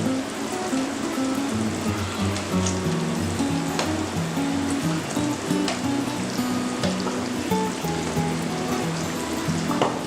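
Nellore-style tamarind fish curry bubbles in a pot as a steady, dense crackling simmer that holds even throughout, with faint low background tones and no talking.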